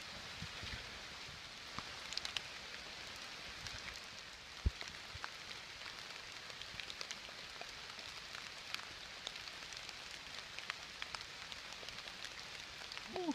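Steady rain falling through a forest on a hiking trail at Mt. Mitchell, North Carolina, a constant soft wash of drops with occasional sharper patters, fairly quiet and continuous throughout.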